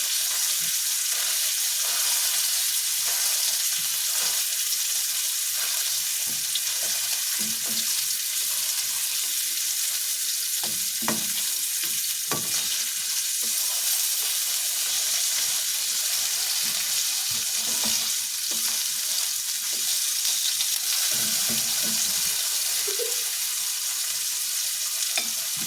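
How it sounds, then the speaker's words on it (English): A sausage sizzles in a frying pan, giving a constant loud hiss of frying with occasional soft clicks and stirring scrapes, no voices over it. "I'm cooking a sausage"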